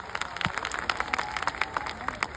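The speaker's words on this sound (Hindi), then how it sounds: "बार जोरदार तालियां होनी चाहिए" An audience at a company anniversary event in Lucknow gives a round of applause, a burst of quick, fairly close clapping from a modest crowd that rises and then continues unevenly.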